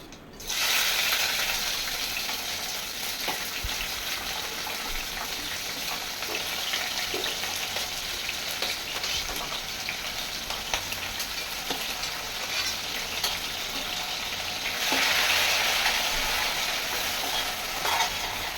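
Steady, loud sizzling and crackling of chopped onions frying in hot oil, continuous from start to finish, swelling slightly near the end.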